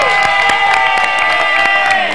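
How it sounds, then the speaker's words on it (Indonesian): A studio audience at an Indonesian TV talk show breaks into a brief burst of loud clapping and cheering, dense and continuous for a couple of seconds. "Oh, tepuk tangan dong."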